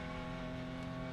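A race car engine in a cup car sim racing game drones steadily as the car pulls out of the pit, a continuous mid-level engine tone with no pauses.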